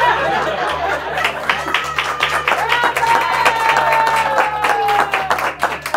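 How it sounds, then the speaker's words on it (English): Applause for Park Hill Star award winner Brandon Pettway: steady, dense clapping from a crowd lasting throughout, with some chatter and a faint tonal backing underneath. "He needs lots of applause"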